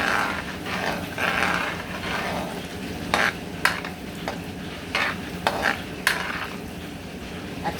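Ginger sautés in a pan as the base for chicken curry, a soft sizzle under steady stirring and repeated scrapes and taps of a spatula against the pan.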